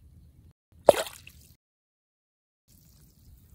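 A bluegill released into the water lands with a single sharp splash, followed by a short dripping trail, set against faint low background rumble that fades into near silence.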